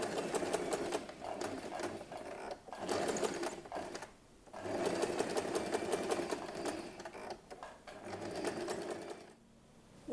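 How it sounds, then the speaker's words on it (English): Sewing machine stitching a label onto the outer layer of a pouch's front pocket, running in close rapid mechanical bursts of a few seconds separated by short pauses, fairly faint overall. "Sew the label to the outer layer of the front pocket only."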